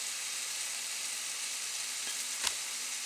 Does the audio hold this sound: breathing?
no